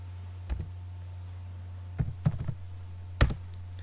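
A few scattered computer keyboard key presses while entering AutoCAD commands, each a short soft click over a steady low electrical hum, with long pauses between them.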